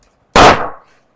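A desk noisemaker mimicking celebratory gunfire lets off a single sharp, loud burst that fades over about half a second, alone with no talk.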